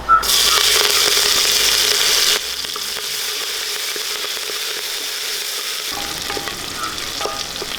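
Mustard seeds, fenugreek, green chillies and garlic hit hot oil for a rasam rice tempering, a loud, dense sizzle that drops to a steadier, quieter frying crackle with faint stirring clinks and no talking.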